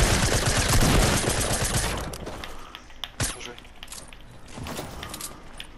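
Gunfire during a Fortnite match: a dense burst of rapid shots fills the opening two seconds, then a few sharper isolated cracks follow amid quieter in-game sounds and background voice.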